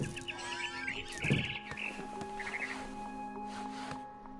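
Small bird chirps in the game What Remains of Edith Finch, a few faint tweeting bursts heard over a low steady tonal hum and background game ambience.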